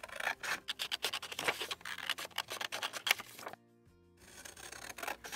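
Scissors snip rapidly through printed cardstock tags from Michaels, a close run of crisp cutting clicks and rustles, a brief pause, then softer rubbing of the paper, with no speech.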